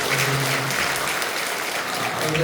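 A church congregation claps steadily, a dense even patter of applause with a voice briefly under it.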